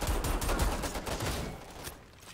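Pistol gunshots in Homefront: The Revolution, a quick string of sharp shots and echoing gunfire over a battle din that tapers off toward the end, with no talk.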